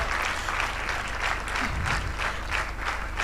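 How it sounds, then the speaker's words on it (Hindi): Continuous applause from a crowd fills a church hall in Udaipur, steady and rhythmic with no pauses. "तालियों की गड़गड़ाहट सुनाई देती रहनी चाहिए।"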